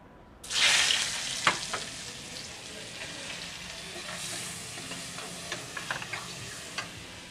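Butter sizzles in a hot pan for palak paneer, a steady frying hiss that starts abruptly with a bright burst, then settles into continuous crackling with small pops, no talking.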